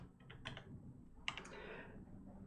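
Quiet computer keyboard typing while setting up a database for a WordPress sandbox: a few short bursts of soft key clicks separated by pauses, faint over a low room hum.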